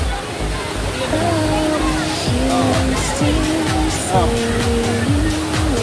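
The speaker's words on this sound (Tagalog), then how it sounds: "Ayun yung falls mga tupacs" Daranak waterfall in Tanay, Rizal pours in a steady broadband roar, with someone talking over the rushing water throughout.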